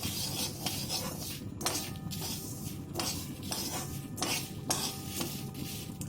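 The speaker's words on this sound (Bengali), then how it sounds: "আর মৌরি আছে। তো এগুলো সব দিয়ে দেবো, দিয়ে একসাথে ভেজে নেব।" Spices including fennel and a piece of cinnamon are dry-fried together in a pan, giving repeated close scraping and rubbing strokes of a utensil against metal with a faint sizzle underneath.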